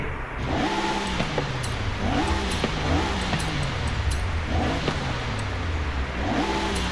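A Jaguar XJ220 TWR engine in the racing game Forza Horizon 5 revs up repeatedly, each climb ending in a gear shift and dropping pitch, with a constant hiss behind it and no voices.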